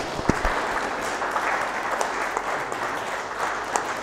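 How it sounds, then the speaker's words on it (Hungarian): An audience applauds steadily after a professor's lecture on the Hungarian language, a dense, sustained clatter of many hands with a few sharper claps standing out near the start. "Akkor tapsoljuk őt meg."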